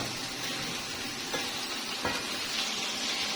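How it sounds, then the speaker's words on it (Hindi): White chicken karahi simmering and frying in a pan, a dense, even sizzle heard up close with a couple of faint stirring knocks, no speech. "इसको मैं 1-8 मिनट पका लूंगी अच्छे से मिक्स हो जाए।"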